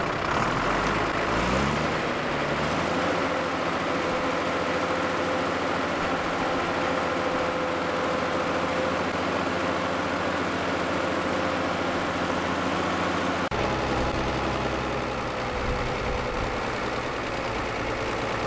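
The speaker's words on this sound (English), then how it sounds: "This 50D is undergoing a dynamometer test" A David Brown 50D tractor's 50-horsepower engine runs loud and steady on a dynamometer test with a constant low drone throughout, its pitch shifting slightly near the end, with no voices.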